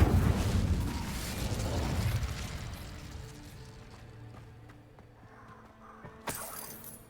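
A fire spell cast in Hogwarts Legacy erupts in a loud whooshing, crackling blast that slowly fades over several seconds, followed by a sharp magical flash near the end.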